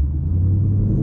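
A 2018-2021 Ford Mustang with a cowl hood accelerates onto a freeway, its engine giving a steady low rumble heard from inside the car, loud and continuous with no talking.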